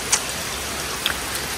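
Steady rain falls outdoors on farmland after welding work, a broad even hiss with a couple of brief drip ticks, no voices.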